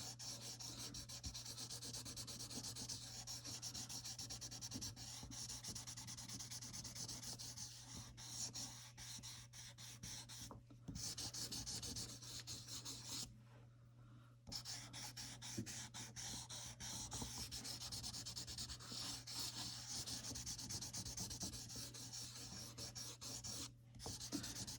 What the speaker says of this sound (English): you can use both the blending stump and your eraser for smoothing out your tone, smoothing out your charcoal